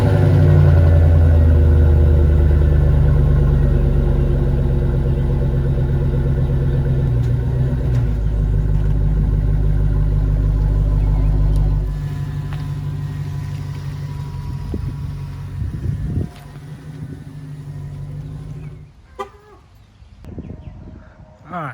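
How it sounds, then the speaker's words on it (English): A truck engine rumbles loud and close at first, steady and low, then drops off sharply partway through as the truck moves away, leaving quieter scattered clatter and handling noises. "So we're gonna get this truck out of the way."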